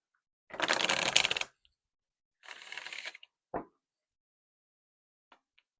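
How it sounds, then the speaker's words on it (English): Tarot and oracle deck cards are shuffled in two riffling bursts, the first longer and louder, followed by a soft card snap as one is drawn, then near silence. "I'm going to draw a few from the Oracle deck as well"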